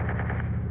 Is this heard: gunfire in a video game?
yes